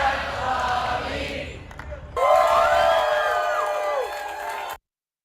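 An audience breaks into loud cheering and clapping, with a mixed roar of voices over applause that holds steady and then cuts off abruptly.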